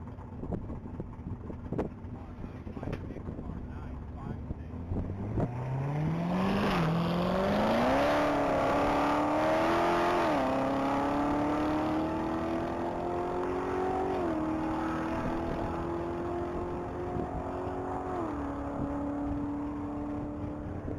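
A red 2017 Corvette Z06 launches on a top-speed mile run, its engine rising through several gear changes in long climbing pulls, loud and sustained with wind buffeting the microphone.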